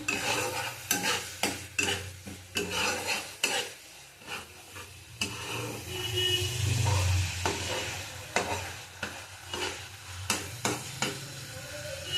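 Food sautéing in oil in a home kitchen, with repeated scraping and stirring strokes of a spoon against the pan over a steady low sizzle, no voices.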